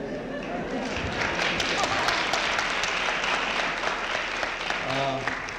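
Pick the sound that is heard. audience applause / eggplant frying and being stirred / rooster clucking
audience applause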